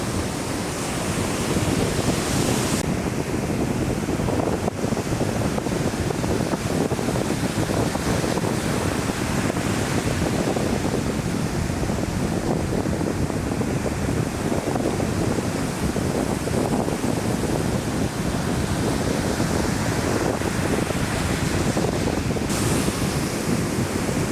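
Heavy ocean surf at South Padre Island, a steady loud roar of breaking waves mixed with gusting wind buffeting the microphone, continuous throughout with no voices.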